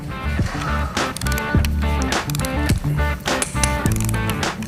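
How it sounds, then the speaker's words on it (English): A torque wrench tightens cylinder head bolts on a hot rod big block engine in a garage, giving repeated close ratcheting clicks in quick bursts over a busy mechanical background. "I'm torquing the heads down"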